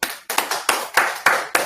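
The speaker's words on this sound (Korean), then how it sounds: "이거 박수 쳐줘야 돼" Hands clap seven times in a brisk, even rhythm, each crisp slap close and clear with short gaps between.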